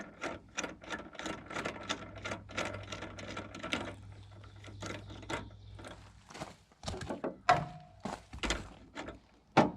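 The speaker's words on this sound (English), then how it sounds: "So I'm just gonna thread that on there." A 3/8-by-16 bolt is threaded through nylon spacers and a coupler while fitting third-function hydraulics to a Mahindra 1626 tractor, heard as a close series of quick metallic clicks and ratcheting taps in an uneven rhythm, with no speech.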